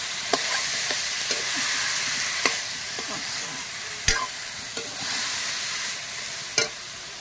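Boiled cabbage and potatoes frying together in a pan, with a continuous sizzle and a spoon knocking and scraping now and then, close and loud, with no talk.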